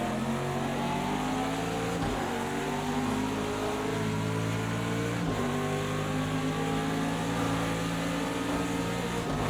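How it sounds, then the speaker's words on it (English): An LMP2 prototype race car engine during practice at Daytona, heard from a nearby car on track: a loud, continuous engine drone that shifts pitch as it revs and changes gear. "Got an LMP2 car behind me there."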